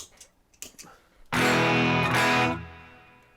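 A few faint taps and plucks, then a loud electric guitar chord distorted through a Rat distortion pedal rings out and sustains before fading.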